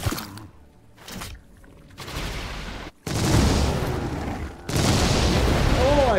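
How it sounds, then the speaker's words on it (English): Gunfire in the video game Warhammer 40k: Chaos Gate - Daemonhunters: loud bursts of shots and booming blasts in separate bursts, with short quieter gaps and a sharp dropout between them. "Firing on target."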